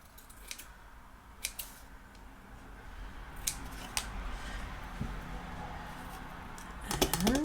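Scissors trimming a paper craft tag, a few crisp, close snips scattered over quiet room noise, ending with a quick cluster of cuts.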